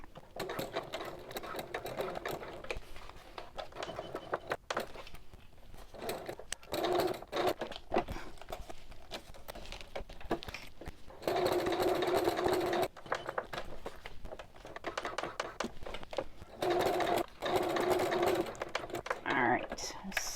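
A sewing machine stitching continuously around a small boxed-bottom bag, rapid mechanical whirring in long bursts with short pauses between, close and clear, while someone talks over it.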